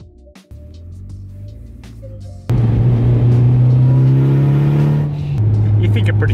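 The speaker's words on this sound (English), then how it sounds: "Maybe if you revved it out higher, it'd be faster." Mitsubishi Evo X engine starts as a low idle, then jumps into a loud, steady rising rev with a strong sustained tone before easing slightly near the end; faint talk sits under it early on.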